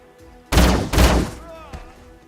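Two heavy booming blasts from an anti-aircraft gun in a video game, loud and close in quick succession, followed by a fainter thud as the echoes fade.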